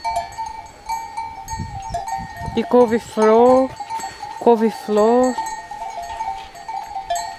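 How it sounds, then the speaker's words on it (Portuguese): Bells hung on grazing sheep clank and ring near a small vegetable garden in rural Portugal, with sheep bleating twice in the middle and a person speaking briefly at the end. "A única coisa que dá pra escutar aqui, tem dia, ou de manhãzinha quando a gente acorda, é esse barulhinho do chocalho das ovelhas."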